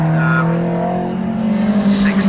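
Morgan race car passing on the track at Snetterton: a close, droning engine note holding steady, then swelling and shifting in pitch as it goes by, with a faint voice in the background.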